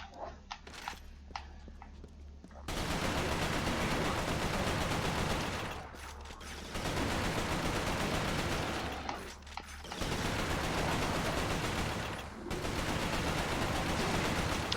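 Rapid repeated shotgun blasts from Resistance: Fall of Man, a PS3 first-person shooter, loud and continuous in long sustained bursts with brief gaps between volleys, alone with no talk.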